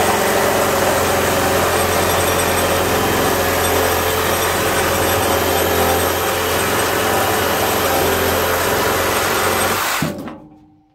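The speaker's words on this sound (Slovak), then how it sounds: "tak sledujte, ako píli táto píla" A Parkside PGHSA 12 A1 12V cordless mini chainsaw runs loud and steady for about ten seconds, a continuous motor whine with no talk, then cuts off abruptly near the end.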